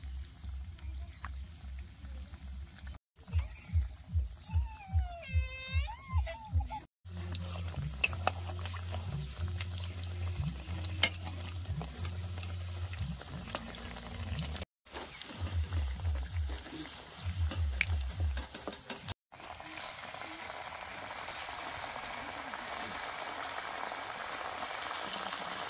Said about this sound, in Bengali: হালকা গরম তেলের মধ্যে এগুলো দিয়ে সুন্দর করে ভাজি নেব